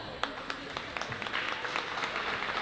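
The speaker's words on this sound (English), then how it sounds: "would you just give them a round of applause?" An audience at a school basketball event applauds, with scattered individual claps at first that thicken into steady clapping, while a voice talks over it.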